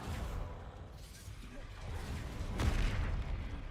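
An explosion from a Confringo blasting spell in Hogwarts Legacy, a booming whoosh that swells near the end over a continuous rumble of game noise, with talk mixed in.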